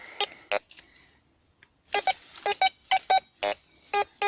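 A metal detector sounds a run of short, sharp electronic beeps over a buried target under dead leaves in Lorraine woodland, with a brief pause and then quick repeated tones, fairly close and clear.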